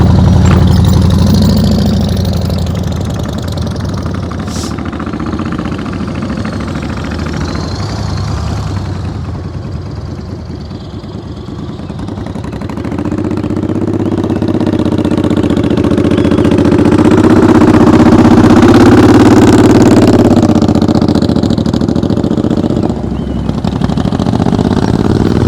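A motorcycle running during slow-speed riding practice, its engine idling steadily and swelling briefly as the throttle opens, close and continuous throughout with no talking.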